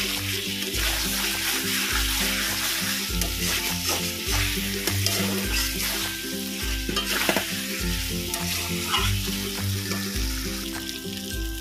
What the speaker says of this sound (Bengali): আমি এই আলুটা মশলাটা দিয়ে ভালো করে আবারও কষিয়ে নিই।